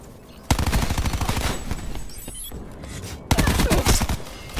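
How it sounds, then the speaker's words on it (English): A sentry gun in a video game hammers out rapid automatic fire, loud and close, in two dense bursts separated by a lighter stretch of scattered shots and effects. "Sentry firing."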